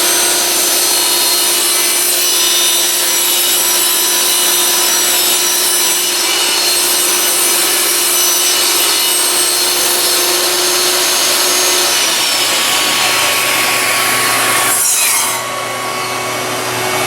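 A power saw blade cutting through a wood board for a house shutter build, a loud, continuous close-up whine and rasp that drops off near the end as the cut finishes.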